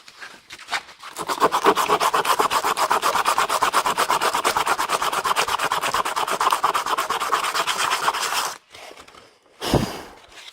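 Sandpaper rubbing steadily on a metal body panel being prepped for a stud welder, a long, even, close rasp of rapid back-and-forth strokes that stops, then one short final stroke.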